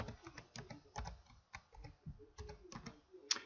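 Quick, irregular keystrokes on a computer keyboard, close and distinct, in short bursts with brief pauses.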